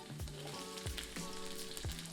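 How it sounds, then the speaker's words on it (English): Garlic and onion sizzle in hot cooking oil in a wok, a steady close crackle with periodic scraping clanks of the utensil against the metal. "I will add some cooking oil in a hot wok. I will then add garlic and onion to sizzle."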